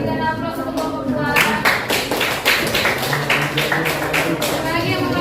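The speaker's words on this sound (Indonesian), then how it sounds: "Berikan aplaus untuk kelompok 2" A classroom group claps for the second group of students. The claps are dense and overlapping, keeping a steady loud level for about five seconds, with voices mixed in.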